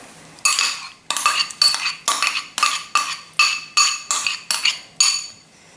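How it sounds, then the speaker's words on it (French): Cream and ricotta being mixed in a bowl, heard as about ten rhythmic scraping, clinking strokes of a utensil against the bowl, close and fairly loud with short gaps between them. "dans une jatte, je vais mélanger la crème"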